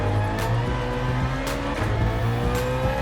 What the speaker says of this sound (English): you'll hear some extreme gear whine and very loud clunky shifts